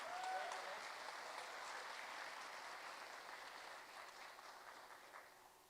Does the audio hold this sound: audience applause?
yes